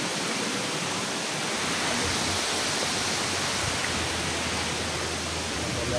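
Bulingan Falls in Lamitan, Basilan, pours as a steady, dense broadband roar of falling water, constant and close throughout with no break.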